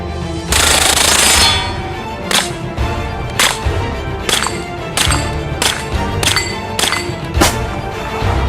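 A Kriss Vector submachine gun fires a long opening burst, then a string of short, sharp bursts at a steady pace, each one loud, close and cracking.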